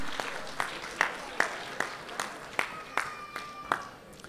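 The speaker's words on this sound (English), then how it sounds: "so give them a big hand, round of applause." An audience at an India Independence Day cultural celebration applauds pageant guests, with roughly a dozen sharp, evenly spaced claps standing out over a softer background of crowd clapping while a speaker talks over it.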